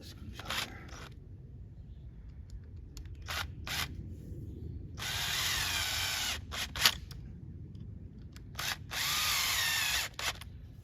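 A power drill driving screws into a garden bed hoop outdoors comes in several short bursts, with two longer sustained whirs in the middle and toward the end, over steady low background rumble.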